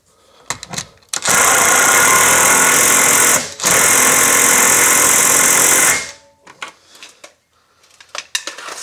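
Control arm bolts being tightened on a solid axle truck or Jeep, with two long, loud bursts of continuous buzzing power-tool rattle separated by a brief pause, bracketed by scattered clicks and clanks.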